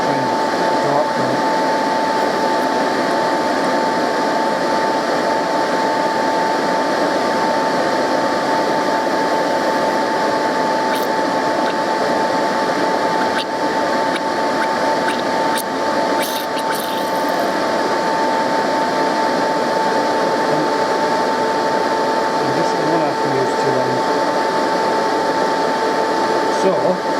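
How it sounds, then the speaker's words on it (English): The cooling fans and coolant pump on a 2014 Harley-Davidson Electra Glide run continuously, a loud steady whirring drone with a constant whine, holding unchanged throughout. "the fans and the pump will run continuously until I turn it off"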